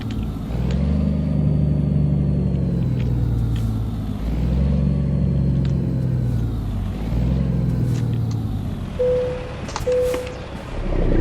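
Peterbilt 380 truck engine in a trucking video game, a steady mid-pitched rumble with gentle rises as it creeps slowly onto a weigh scale, continuous and close, ending with a brief high tone.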